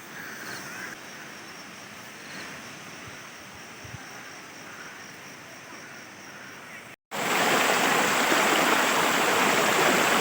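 Mountain stream water rushing in a hillside village during the rice harvest, a steady broadband wash that cuts out briefly and returns much louder and closer.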